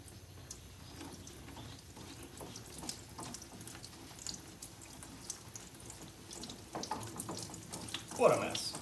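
Diesel fuel drains from a John Deere 2032R compact tractor's fuel filter and splashes into a small drain pan, a close, steady wet patter and trickle that grows briefly louder near the end.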